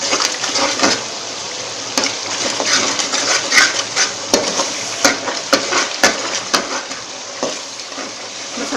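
Masala with tamarind frying in a pot for degi chana pulao, a loud close sizzle punctuated by a rhythmic series of sharp spoon scrapes and clanks against the metal.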